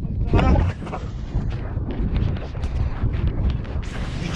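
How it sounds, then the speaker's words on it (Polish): Strong wind buffets a microphone on a ride through Denmark, a continuous low rumbling roar with gusty thumps that swell and fade throughout. "bo tu strasznie wieje"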